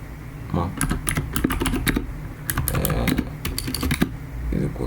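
Fingers type on a computer keyboard while writing Python code, a close, irregular burst of clicky keystrokes in quick runs with short pauses, loud and clear against faint room noise.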